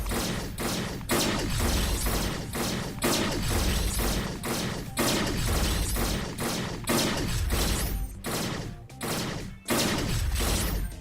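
Rapid turret gunfire in a video game, a dense barrage of loud repeating shots and impacts hammering almost nonstop, with only a couple of brief gaps near the end.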